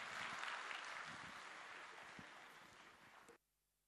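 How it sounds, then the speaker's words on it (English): An audience at a community showcase applauds, a dense faint wash of clapping that slowly thins and then cuts off abruptly near the end. "let's give him another round of applause"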